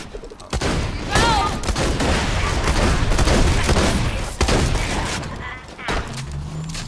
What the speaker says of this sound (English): I have a shotgun now.